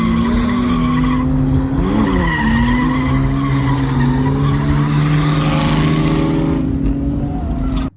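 A car drifting sideways on dry pavement at a drift event, tires squealing and skidding continuously and loudly up close, with the engine revving and its pitch rising and falling throughout.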